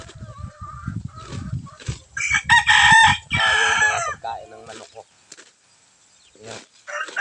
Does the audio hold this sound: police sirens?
no